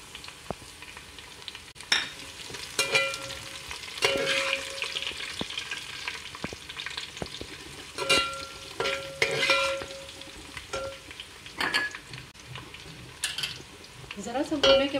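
Garam masala and onions frying in a pan while being stirred, a steady sizzle broken by repeated scraping strokes and metal clinks of utensil against cookware, close and fairly quiet with no speech.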